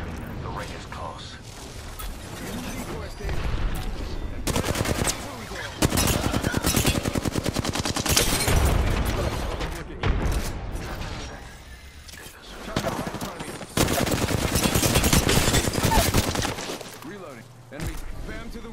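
Rapid automatic gunfire from the Apex Legends battle royale, including a gold Flatline rifle, crackling in long loud bursts with mechanical clicks between, while game voice lines talk over the shooting.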